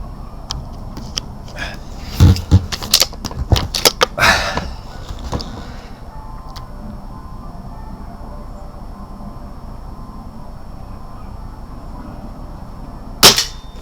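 A BSA R10 Mk2 air rifle firing slugs gives a cluster of sharp, loud cracks and clicks early on, then a quiet stretch before one more sharp shot near the end.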